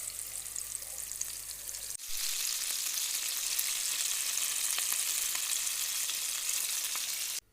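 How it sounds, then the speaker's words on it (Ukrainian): Hake fillets coated in flour fry in a pan of oil, a steady loud sizzle that steps up sharply after a brief quiet moment and holds evenly to the end, with no voices. "Хек обкачуємо у борошні і обсмажуємо зі всіх сторін до золотавої шкоринки."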